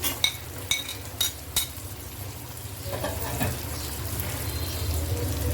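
Whole garlic cloves dropped into a hot pan of oil for loitta shutki bhuna, a few sharp sizzling pops up front followed by a steady frying sizzle close by.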